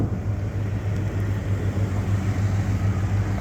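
A rebuilt AMC 401 V8 in a 1987 Jeep Grand Wagoneer idles smoothly and steadily, a continuous low rumble heard from near the rear of the vehicle with no voices.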